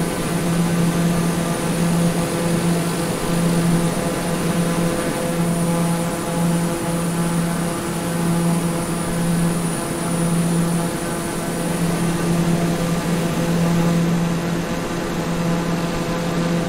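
A TBM 930 turboprop aircraft in Microsoft Flight Simulator holds a loud, steady engine drone with a constant whine and a low rhythmic pulsing, unbroken and without voices for the whole stretch.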